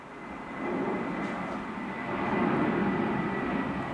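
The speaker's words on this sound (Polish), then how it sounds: "zawsze, kiedy nagrywam, leci samolot" An airplane passes overhead, a steady broad engine roar that stays loud and even and swells slightly near the end, with no one talking.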